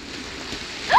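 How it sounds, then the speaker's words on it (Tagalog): Steady rain falls in a comedy film scene, a soft even hiss throughout, with a brief rising tone breaking in near the end. "Umulan na, di ba? Pakinggan mo."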